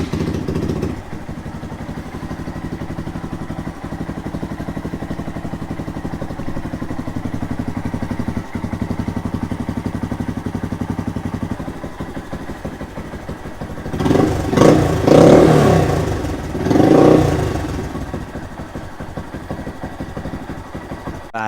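A 2020 Honda Grom motorcycle sits drained and dry of oil for two weeks and is started; a loud, steady idle runs throughout, with a short burst of revving near the end.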